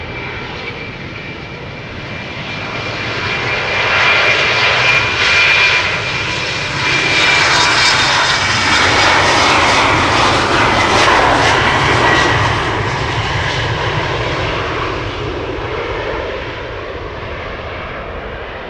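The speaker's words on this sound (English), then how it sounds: "And over here we have KLM Flight 1003 to Peoplechester. Flown by Eastern Airways," A KLM passenger jet flown by Eastern Airways departs Amsterdam Schiphol, its engines swelling into a loud, sustained roar that peaks through the middle and then holds, close by and alone.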